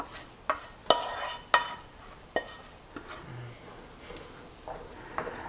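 Sauce being stirred into chicken in a pot, with several sharp spoon knocks against the pot at irregular intervals over a soft background hiss.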